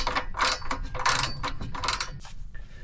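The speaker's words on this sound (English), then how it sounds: "Now we're gonna go around with the socket, finish tightening all the bolts" A socket wrench tightens bolts on Hooke Road rock sliders fitted to a Toyota 4Runner, making repeated close bursts of ratchet clicking with short pauses between strokes.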